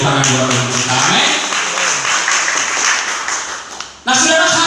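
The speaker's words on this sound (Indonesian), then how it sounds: "Tepuk tangannya harus lebih keras lagi dari tepuk tangan buat kita." A church congregation at an Easter resurrection worship service breaks into loud, dense clapping that fills the room, framed by a preacher's voice speaking before and after.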